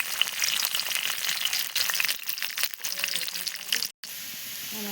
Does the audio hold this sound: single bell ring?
no